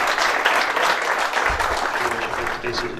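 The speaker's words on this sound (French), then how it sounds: "Je crois que là, on peut les applaudir" An audience at a French UFOLEP national sports event applauds its volunteers: dense, steady clapping throughout, filling the space at moderate distance, with crowd voices mixed faintly into the applause.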